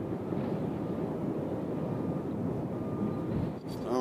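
An airliner inbound from LAX approaches Nashville International Airport, its broad jet roar steady and fairly loud for several seconds before a brief dip and a clattering noise at the very end.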